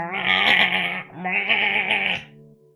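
A voice imitates a giddy, goat-like creature during a live Dungeons & Dragons tabletop game, giving two loud, wavering bleats separated by a short pause.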